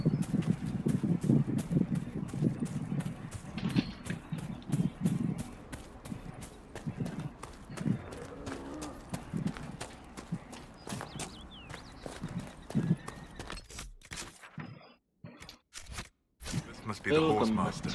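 Horse hooves clip-clopping in Dragon Age: Inquisition, a steady run of hoof taps that gradually thins out and quiets, with people talking over them throughout.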